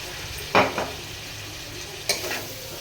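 Hakka noodles with vinegar being stirred and tossed in a hot pan: two brief scraping clatters of a spatula over a steady low sizzle.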